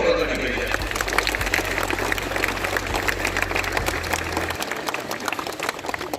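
Loud applause from a school assembly at Arambagh High School, West Bengal, celebrating its state ranking: steady, dense clapping from a crowd that fills the whole stretch, with a low hum beneath that drops away near the end.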